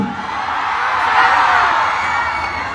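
A crowd at a political rally in Plaza Rizal, Pasig, shouts and cheers in one sustained roar that swells to a peak near the middle and then eases off slightly.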